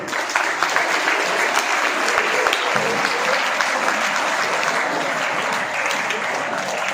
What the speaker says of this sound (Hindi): जरा एक ताली बजा दें।